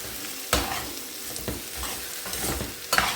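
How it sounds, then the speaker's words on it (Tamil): Mango and ginger sautéing in oil for a pickle, with a soft sizzle underneath and distinct stirring scrapes at regular intervals, up close and without talk. "இப்போது மாங்காய் இஞ்சி நல்லா எண்ணெயிலேயே வதங்கிடுச்சு."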